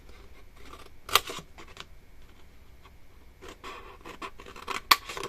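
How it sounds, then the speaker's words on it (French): Paper being cut with scissors while making a Stampin' Up Christmas book box, two sharp snips near 1 and 5 seconds over faint rustling and handling, close and quiet with no talking. "Et ensuite, on va découper."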